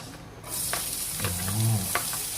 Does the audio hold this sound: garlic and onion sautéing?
yes